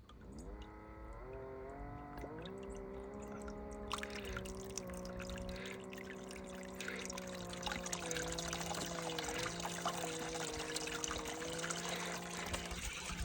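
Water runs and trickles steadily over a Miller table used for separating fine gold from black sand, a continuous close pouring flow that grows louder and fuller partway through, with an underlying low hum and no talking.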